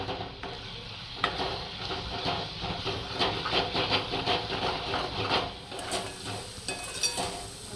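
Prawns coated in turmeric and salt are stirred and sautéed in a pan of onion-tomato masala, giving a steady sizzle with repeated spatula scrapes and clinks throughout, fairly close and without talk.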